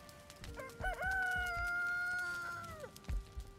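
A rooster crows a single drawn-out cock-a-doodle-doo with a few short clucks around it, close and clear, from a chicken coop in the video game Valheim.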